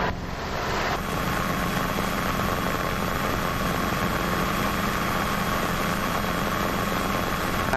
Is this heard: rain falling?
no